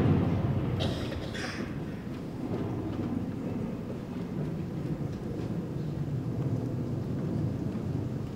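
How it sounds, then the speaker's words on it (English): A thunderstorm in a film scene: a steady, heavy rumble of thunder with rain, continuous and fairly loud throughout. "It's going to storm."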